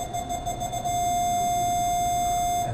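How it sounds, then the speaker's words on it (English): A car's backup camera warning sounds as a steady, continuous electronic tone, moderately loud and alone, with faint background noise beneath. "Some backup camera systems are even more sophisticated and will sound an alarm if there is an object"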